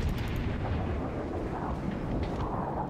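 The main guns of the Yamato, a tier 10 Japanese battleship in World of Warships, fire in a loud, close booming blast that rolls on as a heavy, sustained rumble.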